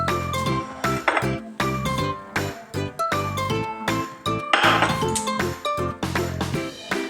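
Cooked eggplant being moved onto a plate while making vankaya pachadi, with repeated bright clinks and metallic taps of a utensil against the dish in an irregular rhythm, close and clear, with no talking.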